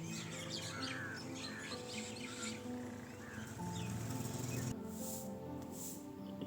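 Many birds chirp and squawk together in the early morning, a dense outdoor chorus of overlapping calls at moderate distance, with a brief louder burst near the end.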